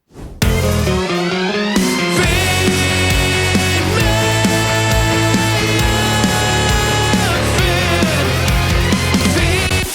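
A loud, dense rock song plays: heavy drums, distorted guitars and bass filling the whole mix continuously from start to finish.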